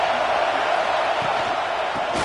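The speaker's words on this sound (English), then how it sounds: "This crowd ready to make its presence known." Football stadium crowd roars as a steady, dense wash of distant cheering and noise, loud and unbroken, with no distinct voices standing out.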